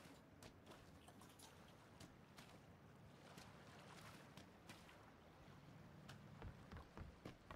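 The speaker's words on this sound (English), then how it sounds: "That sounds like the hum of an engine." A car engine in the battle-royale game PUBG, a faint, steady low hum that rumbles on throughout without any voices.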